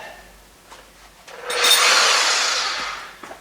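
A power drill, not in hammer mode, whirs into material in one sustained burst lasting a second or two, with quiet handling noises before and after.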